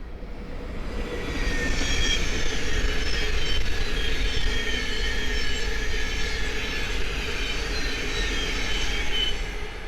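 A Class 700 Thameslink electric train rumbles past steadily for the whole stretch at Great Wymondley on the East Coast Main Line, with a constant loud roar, a faint electric whine and light rail noise, and no voices.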